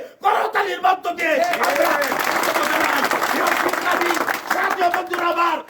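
At a political rally in Narayanganj, a crowd bursts into loud, sustained applause and cheering with shouted voices mixed in, rising quickly and holding strong before tapering slightly at the end.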